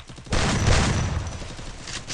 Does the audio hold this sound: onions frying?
no